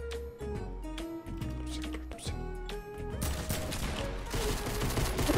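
Gunfire crackles in Fortnite Battle Royale: a rapid string of sharp shots in the first seconds, then denser, louder bursts of firing and impacts toward the end, with game music and sounds underneath.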